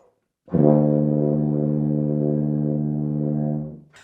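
A single low tuba note, a D, held steadily for about three seconds, rich and buzzy, then fading out.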